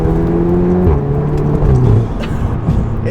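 Tuned Stage 2 VW Golf R Mk7.5 accelerating hard through the gears, a close rising engine drone that steps down in pitch at shifts, loud and without talk.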